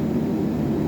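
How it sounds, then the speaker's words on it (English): Steady low roar of a paint booth drying oven running while curing base coat on a Fiat 500 Abarth 595, a constant droning hum with no pauses. "So what we do is we'll put the oven on"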